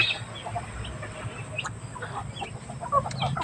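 Chickens clucking softly in the distance, scattered short calls over faint outdoor background noise.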